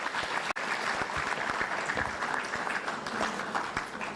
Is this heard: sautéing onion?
no